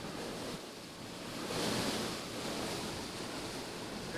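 Steady wind roars across open water at Saginaw Bay near Charity Island, a broad, loud rushing with gentle surging swells and buffeting on the microphone, no voices.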